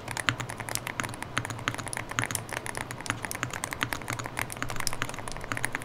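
A stock Boog 75 Hall effect gaming keyboard with a gasket-mounted aluminum case and aluminum plate is typed on, giving a dense, fast, continuous stream of close keystroke clacks with no talking.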